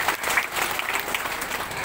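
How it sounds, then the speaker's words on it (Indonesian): Congregation applause at a church revival service in Amanatun Timur, a steady wash of many hands clapping at moderate distance with no talk over it. "Beri tepuk tangan yang terbaik buat Tuhan Yesus."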